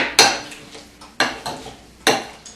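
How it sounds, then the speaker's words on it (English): A fork mashes vegetables for a zucchini-and-squash topping in a bowl: three firm, evenly spaced clanks of metal on the dish, each trailing into softer scraping, close and clear without speech. "I'm going to use a fork to start the mashing process"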